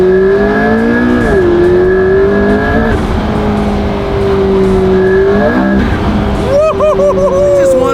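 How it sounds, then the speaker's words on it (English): A McLaren P1 hypercar engine revs loud and close, its pitch rising and falling in repeated sweeps with a whining note, climbing again sharply at the end. "Can't beat the sound of the P1."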